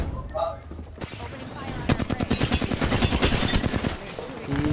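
Rapid automatic gunfire in a shooter video game, a dense rattling burst of shots starting about two seconds in and continuing loud and close, with a few scattered sounds before it.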